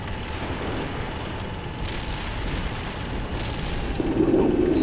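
Artillery fire in the Steel Beasts Pro tank simulator, a steady rumbling barrage of distant booms and blasts filling the whole stretch at fairly even loudness, with a heavier low burst toward the end.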